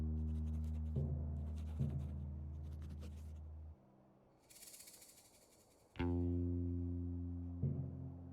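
Pen scratching on paper in Frog Detective 3 comes as short, faint scribbles over a steady, sustained musical background.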